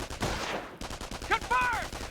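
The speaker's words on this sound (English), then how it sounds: "Let's throw a grenade to destroy the machine gun team." Rapid bursts of machine gun fire from the Company of Heroes battlefield, a short loud rattle with a brief gap and sharp metallic ringing, over steady background game noise.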